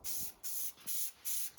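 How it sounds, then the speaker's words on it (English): A spray paint can hisses in four short, even bursts with brief gaps as camo paint is applied to a turkey gun; steady and close. "Spraying that way."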